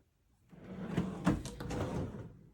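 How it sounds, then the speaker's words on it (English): Craft-room drawer in a minimalist cottage sliding open, a soft wooden rumble with a couple of light knocks, heard close and alone. "This is my adhesive stash drawer."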